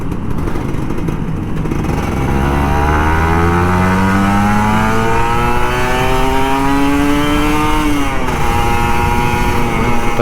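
An old Kawasaki Ninja RR 150 motorcycle revs up hard on a morning ride to work, its two-stroke engine climbing steadily in pitch for several seconds before a sharp gear change drops it and it pulls again, loud and close.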